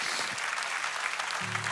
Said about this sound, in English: you can clap your hands for that for sure